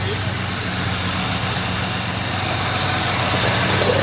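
A Jeep that won't run properly turns over and runs roughly while its fuel pump is tapped, a steady low engine rumble with talk over it.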